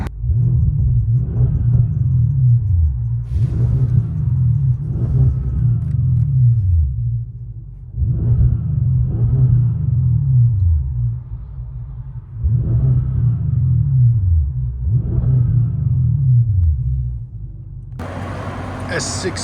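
Deep, rumbling exhaust of a 2016 Audi S6 with a 4.0L twin-turbo V8 and ECS Tuning cat-back, rising in four or five loud, close rev surges separated by idle dips, ending in a brief burst of broadband noise.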